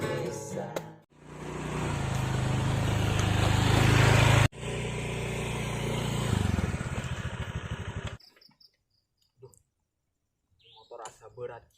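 A motorcycle engine runs close by, a loud steady drone broken by a sharp cut and restart, then it stops, leaving quiet with scattered voices.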